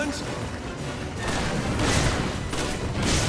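Rapid gunfire from Resident Evil 5 rattles on in dense, continuous bursts, growing louder toward the end, with a voice talking over it.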